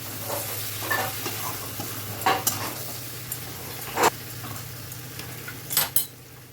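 Cooked vegetables are stirred in a sizzling pan, soft frying hiss under a few distinct spatula scrapes and metallic clinks spaced a second or two apart, with no talking.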